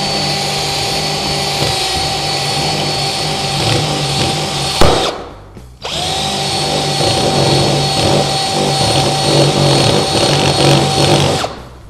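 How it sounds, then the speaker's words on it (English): A power driver spins a screw set halfway into pressure-treated lumber, a loud steady whine that cuts off briefly with a sharp clack, then revs back up and runs on before stopping. "I've put this screw about halfway into pressure-treated lumber now, and now I'll attempt to spin it out on purpose"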